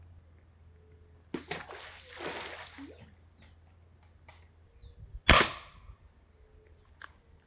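An air rifle fires a fishing arrow into a green coconut: one loud, sharp crack, preceded by a burst of rustling handling noise and followed by quieter scattered knocks, with no talking.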